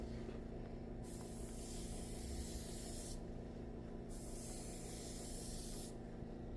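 Continuous hissing spray from an aerosol paint can on a Mooneyes moon disc hubcap, broken by a few brief pauses, steady and close throughout.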